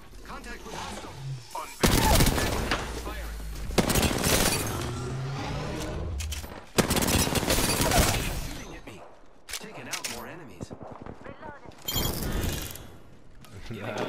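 Gunfire in a competitive online shooter match: bursts of rapid shots and heavy blasts come in clusters with short gaps between them, loud and close, while a player talks over parts of it.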